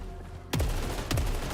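Gunfire in the video game Saros: a couple of sharp, punchy shots about half a second apart, each with a quick booming tail, heard alone with no talk.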